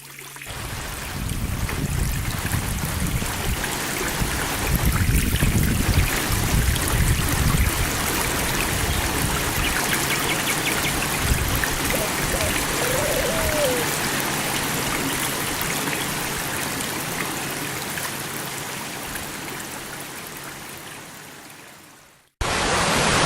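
The Boutgueff stream, a small rural brook polluted by sewage near the bay of Paimpol, flows in a continuous close rushing babble that stays loud throughout before cutting off abruptly.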